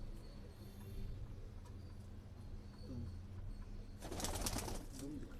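Pigeon cooing at a Rawalpindi pigeon-keeping gathering, soft low murmurs near the mic over steady ambient noise, with a louder burst of fluttering or rustling near the end.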